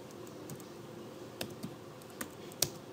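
Sparse keystrokes on a computer keyboard, a handful of separate clicks spaced irregularly over a quiet room background, fairly faint and close, with no talking.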